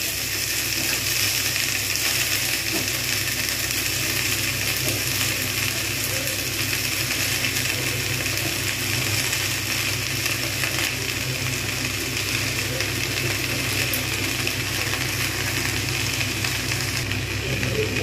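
Water spinach tossed into a pan over a tempering of fried spices, vegetarian style, giving a steady, loud, even sizzle and crackle throughout with no talking.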